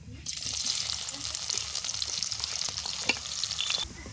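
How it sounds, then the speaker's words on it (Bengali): Chopped onion goes into hot oil with cumin seeds for a chicken curry, a dense close sizzle with occasional stirring scrapes that runs steadily throughout without speech. "এবার দেবো পেঁয়াজ কুচি"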